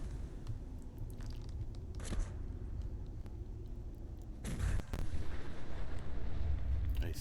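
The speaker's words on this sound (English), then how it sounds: "I still got blown up." An explosion in the video game Fallout 4 blows up the player: a heavy burst of booming noise swells over steady rumbling game ambience and holds loud for a couple of seconds.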